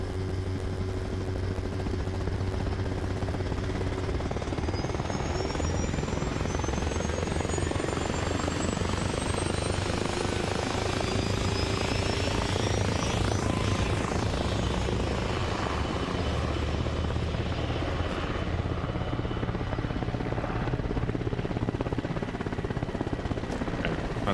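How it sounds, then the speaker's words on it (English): A helicopter engine drones in a video game, a loud continuous rotor chop and whine that holds for over twenty seconds with a passing sweep midway. "That helicopter sounds like it's having a panic attack."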